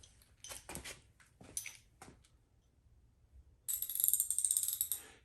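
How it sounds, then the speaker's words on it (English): A ratchet with a 19mm socket works a bolt loose on a Honda Monkey motorcycle. A few scattered metallic clanks come first, then after a pause a fast, close burst of ratcheting clicks lasts over a second. "You're going to start by loosening this bolt right here, and that requires a 19mm socket."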